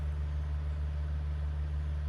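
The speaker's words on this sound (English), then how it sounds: "This huge tractor." A huge tractor engine runs close by outdoors, a steady heavy low droning rumble with strong bass tones, continuous and fairly loud with no break.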